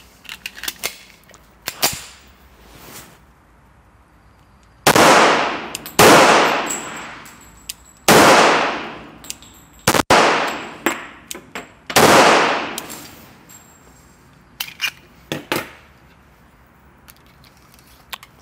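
An Auto-Ordnance 1911A1 reproduction pistol fires a series of loud, sharp shots spaced a second or two apart, each followed by a ringing decay, with lighter metallic clicks and clanks of handling in between.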